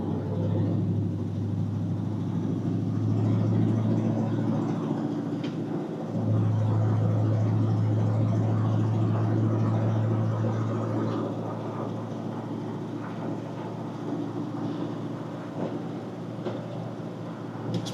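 A 1958 Chevrolet Cameo 3100 half-ton pickup pulls away and drives on, its engine a steady low rumble that swells as it accelerates, close and continuous throughout.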